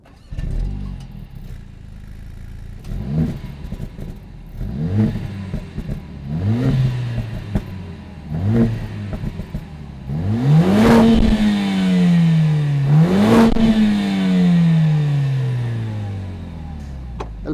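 A 2022 Mercedes-AMG CLA 45 S Shooting Brake revs up close, first in four short, sharp throttle blips. Then come two longer, louder pulls that rise and settle back with a raspy exhaust note.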